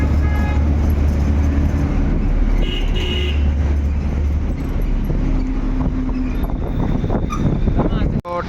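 Road traffic idling at a traffic light, a continuous loud rumble of car and bus engines with a few short horn toots, and people talking nearby throughout.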